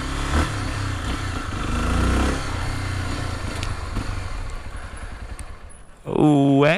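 Motorcycle engine running and revving with a steady low drone that fades out, then a loud burst of revving near the end.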